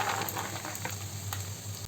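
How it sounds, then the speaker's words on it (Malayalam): Chopped spinach stems added to onion and chili sautéing in oil, a steady close frying sizzle with a few light crackles and stirring ticks, no talking. "ഉള്ളിയും മുളകൊക്കെ ഒന്ന് മൂത്ത് വന്ന സമയത്ത് നമുക്കിതിലേക്ക് അരിഞ്ഞു വെച്ചിരിക്കുന്ന ചീരയുടെ തണ്ട് ചേർത്ത്"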